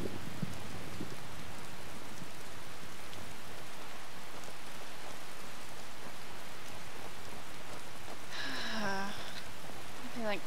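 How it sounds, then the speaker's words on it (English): Steady rain falling in the video game Skyrim, a constant dense hiss throughout at even loudness, with a brief tonal voice-like sound near the end. "Stupid rain. It's always gonna rain."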